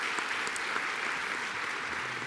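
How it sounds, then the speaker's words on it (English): Audience applause at a 2014 arts convention, a steady dense wash of clapping from a large crowd, held at an even level throughout with no voices on top. "could we please give Jen and her team another hearty round of applause?"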